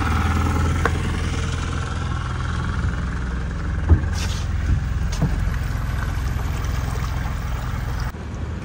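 A shikara boat's engine runs steadily on the Kerala backwaters at Alleppey, a continuous low hum close by with a faint wash of water and a brief knock partway through.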